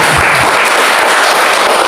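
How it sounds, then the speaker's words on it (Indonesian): A church congregation applauds during a testimony service, giving a round of applause to God: dense, steady, fairly loud clapping that fills the whole short stretch without a break. "tepuk tangan buat Tuhan kita"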